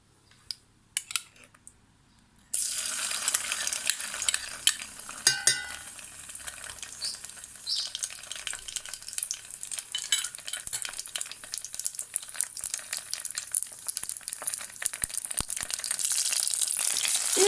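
Tomato paste added to hot oil in a pan sizzles loudly after a few quiet clicks, a continuous crackling fry punctuated by spoon scrapes and stirring taps, close up.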